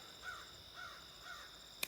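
Outdoors, a crow caws three times at an even rhythm, faint and at a distance over a quiet steady background hiss, followed by a brief sharp click.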